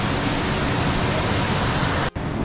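Hot spring water at Kusatsu Yubatake gushes in a loud, continuous, dense rush close by, with a brief dropout near the end.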